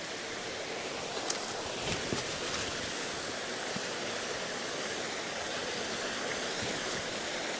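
Small waterfall beside the Fairy Bridge in Glen Creran, heard as a steady, close rush of falling water with an even broadband hiss throughout, a few faint knocks and clicks, and no talking.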